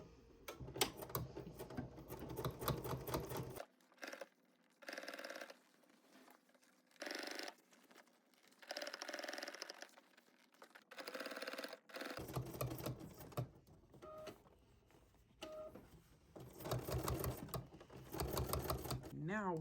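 A sewing machine stitches down bias binding on a garment's neck edge in bursts of rapid needle rattle, with stops and shifting runs, while someone talks during the pauses.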